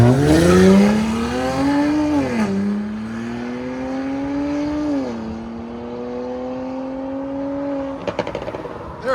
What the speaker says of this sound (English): The pops are insane.